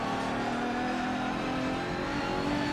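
A Ferrari FXX K at the Nurburgring in Forza Motorsport 7 sings a high, steady engine note, holding its pitch loud and close from start to finish.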